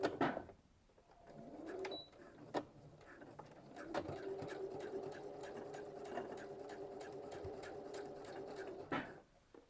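A sewing machine stitches a skirt seam straight down with a back stitch, running in a steady mechanical whir for several seconds between start-and-stop clicks.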